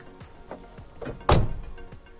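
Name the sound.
Ram truck split tailgate opened barn door style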